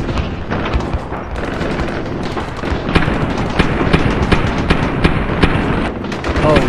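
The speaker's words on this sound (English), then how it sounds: "Oh God, someone's shooting." Rapid gunfire crackles in dense bursts, loud and continuous, with sharp repeated cracks over a rumbling background and voices mixed in.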